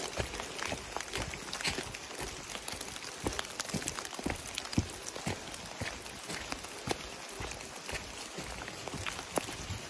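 Rain falls steadily outdoors, a dense, even hiss scattered with sharper drops and pattering hits, continuing without pause at moderate distance.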